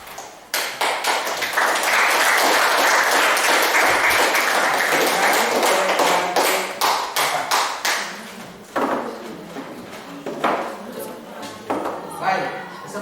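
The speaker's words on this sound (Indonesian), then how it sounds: "aplaus." A classroom group of students breaks into loud, sustained clapping that thins out into scattered claps toward the end, with voices in the room.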